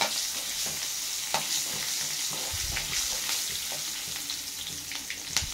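Garlic cloves crackle and sizzle steadily in hot oil in a pan while chutney is being made, with occasional sharp pops and light stirring scrapes throughout, close and continuous with no talking.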